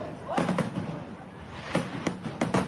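Fireworks going off near monkeys: scattered sharp bangs and crackling pops at a moderate distance, several bursts in quick succession over a background of broad outdoor rumble.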